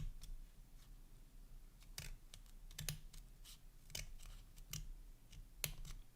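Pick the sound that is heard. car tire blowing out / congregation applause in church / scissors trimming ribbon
scissors trimming ribbon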